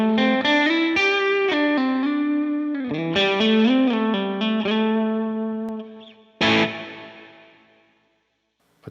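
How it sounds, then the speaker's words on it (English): An electric guitar rings through a Line 6 Helix with reverb on and modulation switched off, playing sustained chords and notes that trail into a spacious, decaying wash, ending with one final struck chord that fades to silence. "If I get rid of that and the modulation, here's my reverb."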